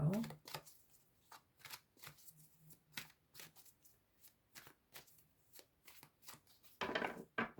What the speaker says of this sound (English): going to cut the deck 4 times for each shuffle